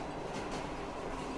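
A train rolls along in the post-apocalyptic shooter Metro Exodus, giving a faint, continuous rumble of wheels and carriages at a distance with no speech over it.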